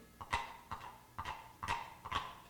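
Hollow clip-clop of horse hooves as a radio play sound effect, five evenly spaced clops ringing out alone and close up.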